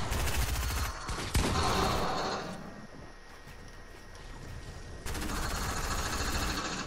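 Dense, rapid Fortnite gunfire from a video game, steady bursts at close range that thin out midway and then return loud and continuous.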